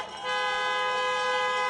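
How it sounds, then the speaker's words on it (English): A sustained car horn blares loud and steady at a drive-in campaign rally in Georgia, other honking blending into one continuous tone after a brief quieter start. "honk for your next United States Senators, Jon Ossoff and Reverend Raphael Warnock."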